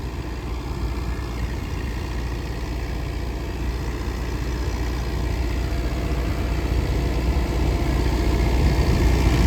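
A New Holland 850 tractor drives a 5-foot thresher through slightly damp wheat, its engine giving a steady, close drone that grows gradually louder over the whole stretch, with no voices.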